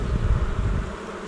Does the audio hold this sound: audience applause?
no